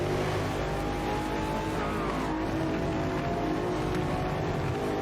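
Engine roar from a racing video game demo with an M8 car, a steady loud drone with a rising pitch sweep midway, continuous throughout.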